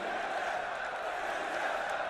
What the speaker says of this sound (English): Crowd seems a little torn between you and NA from what I can hear